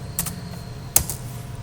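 Computer keyboard typed on in a couple of quick light clicks, close and sparse, with a soft hum underneath and no talking.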